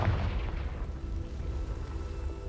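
A Confringo blasting spell explodes in Hogwarts Legacy, a loud booming burst at the start that rolls off into a low rumbling tail with no talk over it.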